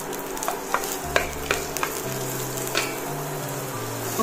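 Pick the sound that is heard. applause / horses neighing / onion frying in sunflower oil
onion frying in sunflower oil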